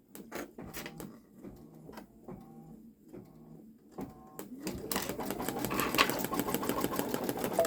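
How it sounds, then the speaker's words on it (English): A Babylock Solaris Vision embroidery machine stitches a Roblox character's hair, first with spaced mechanical clicks and thumps, then settling into a dense, rapid, continuous stitching chatter that grows steadily louder. "I've got the machine threaded and it looks like it's gonna stitch out the hair."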